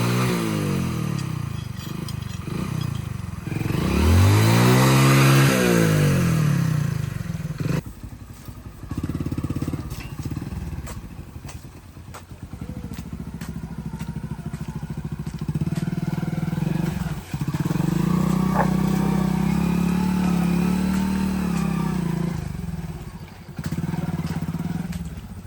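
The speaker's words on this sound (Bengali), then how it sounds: "মোটর সাইকেল উঠে না, আস্তে আস্তে আস্তে আস্তে।" A motorcycle labours slowly along a rough, broken village road, its engine droning loudly throughout with rising and falling revs as it struggles over the surface, close by and continuous.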